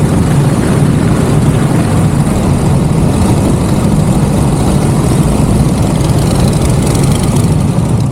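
Motorcycle riding through the 268-metre Betong Mongkolrit tunnel, its engine a steady loud drone with rushing wind and echoing road noise, unbroken and with no talking.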